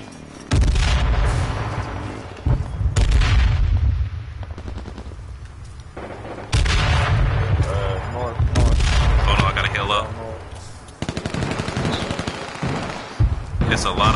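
Heavy video game gunfire, long machine-gun bursts and booming shots in loud stretches with brief lulls between them, while a player talks over the fighting.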